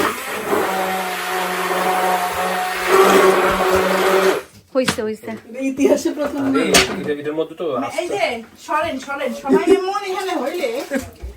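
A kitchen blender whirs steadily for about four seconds while mixing a Rooh Afza drink at home, then cuts off as voices begin talking nearby.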